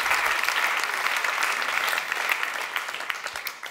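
Sustained audience clapping at an evening literary programme, dense and steady before gradually thinning toward the end.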